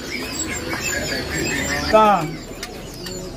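A tame caged songbird calls with a short series of chirps and a brief trilling phrase, fairly close, while someone speaks a single word over it.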